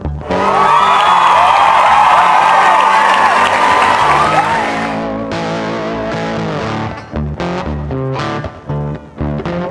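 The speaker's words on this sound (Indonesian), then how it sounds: "Ayo berikan tepuk tanganmu." Loud applause and cheering from a beach cleanup team, a dense crowd roar for the first five seconds that gives way to scattered claps, whoops and processed, distorted effects.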